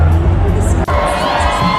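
A concert crowd in Edmonton, Alberta, Canada cheers and shouts as the band arrives, a loud, close, sustained roar of voices with whoops, and people talk nearby.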